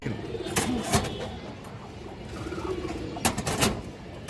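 Old-line khairagola pigeons at a pigeon farm give soft, repeated coos, with a couple of sharper bird calls rising above a steady, murmuring background of flock sounds.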